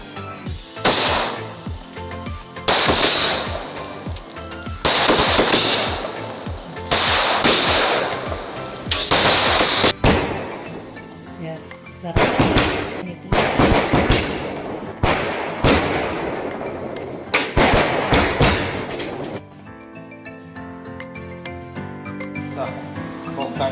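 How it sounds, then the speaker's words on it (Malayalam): Firecrackers burst during Vishu celebrations in rapid crackling volleys, several loud strings of pops separated by short pauses, with people's voices faintly in between. "പടക്കം പൊട്ടിക്കോ"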